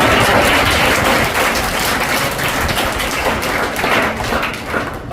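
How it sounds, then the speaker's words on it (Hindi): An audience at a public gathering in Unchi Bhandor, Mahendragarh, claps loudly and steadily for the whole stretch, a dense, sustained wash of many hands with no voices rising above it. "फिर दोबारा से एक बार जोर से तालियां बजाएं"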